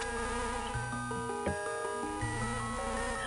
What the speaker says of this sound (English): Ah, the bee follows me!